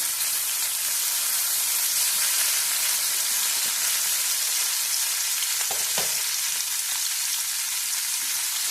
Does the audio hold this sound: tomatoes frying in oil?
yes